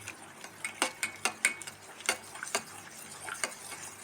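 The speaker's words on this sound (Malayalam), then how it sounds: "കുറുകണ വരെ നമ്മൾ ഇളക്കിക്കൊണ്ടിരിക്കണം" A spoon stirs palada custard pudding in a pan on the stove until it thickens, making a steady run of close, light scraping ticks and clinks against the pan, with no talking.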